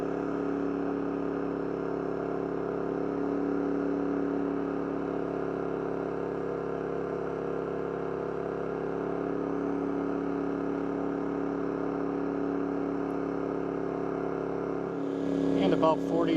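A dual fuel portable generator engine running under load at about 4,200 RPM makes a steady, loud, even drone with a constant tone, which shifts and roughens briefly near the end.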